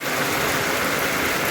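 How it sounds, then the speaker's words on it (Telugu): Heavy rain falls in a dense, loud, unbroken roar of drops hitting surfaces close by, with no talking over it. "ఇప్పుడైతే వినిపిస్తుంది, సౌండ్ అయితే వినిపిస్తున్నది కదా మొత్తం. ఇగో వర్షం పడుతున్నది."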